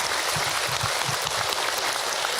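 A crowd applauds continuously, dense and even, a steady wash of many hands clapping at once with no voices standing out.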